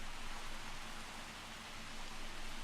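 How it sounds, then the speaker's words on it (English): Steady rain pouring down in the video game Jurassic World Evolution, a dense, even hiss of drops bouncing off the ground, constant and unbroken with no voices over it. "The rain is bouncing off the floor."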